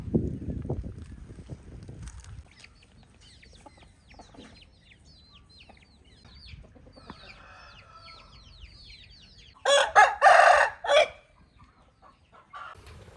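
Chickens cluck and chirp softly in the background on a home farm, then a loud rooster crow bursts out near the end before fading back to quieter fowl sounds.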